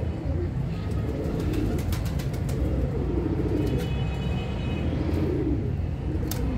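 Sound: pigeons cooing

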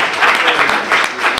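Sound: audience applause

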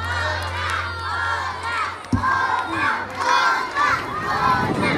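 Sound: audience shouting for an encore

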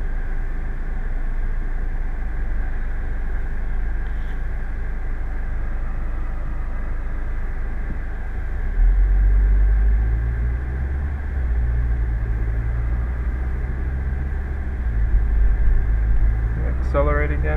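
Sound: Audi B7 2.0T FSI engine running and accelerating

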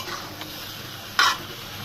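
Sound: stir-frying chicken meat with spices in a pan

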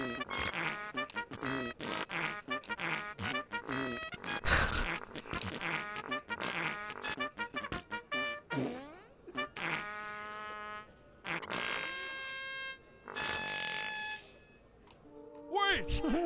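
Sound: farting sounds

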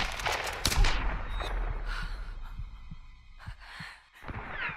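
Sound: gunshots in the video game Tomb Raider

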